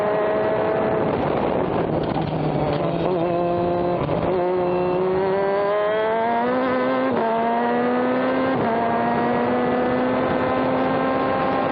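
A Pro Formula Mazda race car screams past on the Sonoma track, its engine climbing through gears with sharp upshifts, loud and close, alone with no talk.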